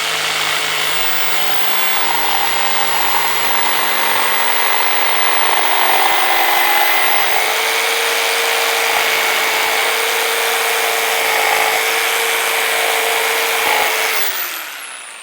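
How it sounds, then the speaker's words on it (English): A corded jigsaw saws steadily through 3/4 inch plywood, a loud continuous whining buzz with a slight pitch shift midway as the cutting speed changes, then winding down near the end. "We're just going to cut a little 3/4 plywood first."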